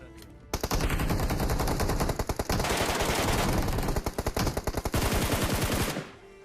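Close, loud automatic gunfire from the PUBG video game rattles off in rapid continuous bursts, with short gaps between volleys.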